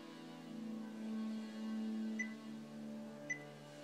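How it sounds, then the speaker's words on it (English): Quiet sustained Korg Kronos synthesizer tones hold a steady chord, with faint higher notes briefly sounding over the soft pad. "those sounds you're hearing are from the Kronos in these Uber Analog"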